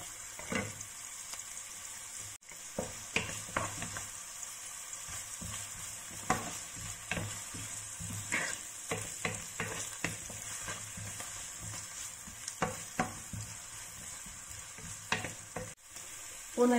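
Carrot sizzles steadily in a pan for a fasting-style vegetable stew, with repeated close scraping and clattering strokes of a utensil stirring it at an uneven pace.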